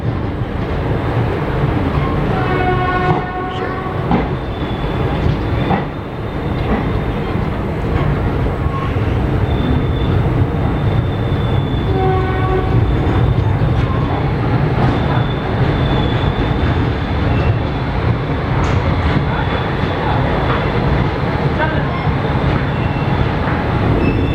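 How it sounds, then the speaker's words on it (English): Train departing an empty Samastipur junction, with a loud continuous rumble of rolling wagons, rhythmic wheel clatter and occasional high metallic squeals close by. "Departing from an empty Samastipur junction."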